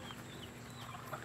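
Faint, soft clucking from a crossbreed Hulo chicken weighing close to 3 kilos, a few quiet calls over low, steady background noise.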